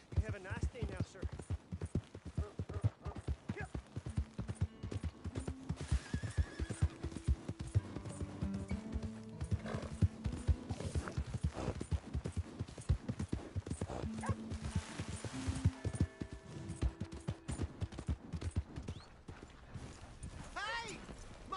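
A horse whinnies and hooves clip-clop in Red Dead Redemption 2, amid busy game background sounds and music, with the neighing standing out clearly over the mix.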